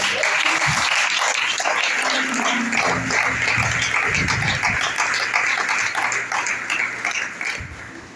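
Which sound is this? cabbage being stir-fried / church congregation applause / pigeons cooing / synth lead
church congregation applause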